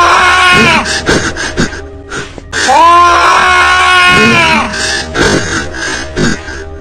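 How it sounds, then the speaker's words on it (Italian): Frightening creature screaming at a window in a public bathroom, loud harsh guttural shrieks and groaning wails in several long bursts with brief gaps, close and piercing. "Ad un tratto da una finestra appare una creatura spaventosa che incomincia ad urlare"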